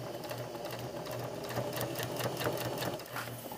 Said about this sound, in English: I'm going to sew straight down the middle.